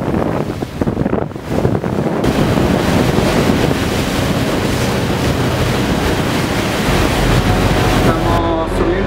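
Water and waves slapping against the bow of a ferry on the way to Galveston, a steady loud rushing wash mixed with heavy wind buffeting the microphone throughout.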